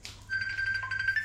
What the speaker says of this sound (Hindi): मेरा आई थिंक फ़ोन बज रहा है